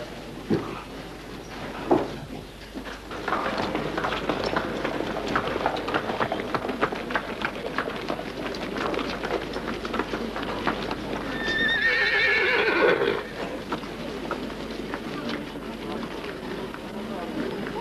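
A horse neighs and its hooves clip-clop steadily, with a loud, close whinny near the end, while people talk over the scene throughout.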